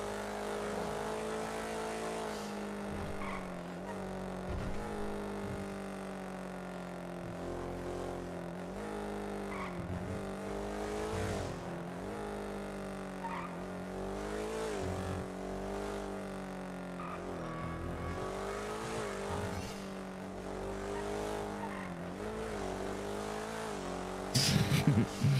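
Turbocharged car in GTA fitted with a 97 mm turbo, its engine droning and revving continuously at close range with steady rising and falling pitch, a brief louder burst near the end.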